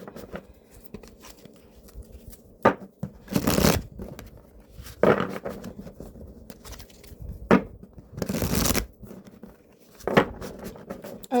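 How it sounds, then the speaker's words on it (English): Tarot cards are shuffled by hand in a quiet room, several short riffling bursts and soft slaps separated by pauses, close and fairly clear. "So I'm going to go ahead and shuffle the cards and just see what comes through."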